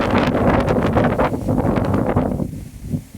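Strong wind roars steadily across a village, buffeting the microphone in a loud continuous rush that eases slightly near the end.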